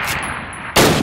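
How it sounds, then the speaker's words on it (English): Two sharp Springfield rifle shots ring out at a training range target in Call of Duty, one at the start and a louder one near the end, each followed by a short echo. "Turn to the left, move to the fence, and fire 2 rounds at your target."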